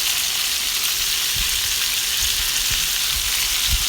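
Garlic added to chicken frying in a pan, a loud, dense, unbroken sizzle heard up close with a few low knocks underneath.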